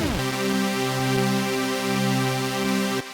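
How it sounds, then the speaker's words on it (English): A dry synthesizer plugin holds one sustained chord for about three seconds, steady and loud with no rhythmic shaping, then cuts off at the end. "I have a synthesizer plugin loaded in. If I play it without the Janggo, it sounds like this."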